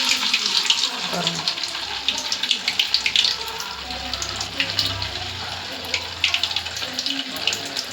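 Fish frying in hot oil for a Tamil meen kolambu, a steady bubbling hiss with crackly spatter bursts throughout, close by, under a brief spoken word.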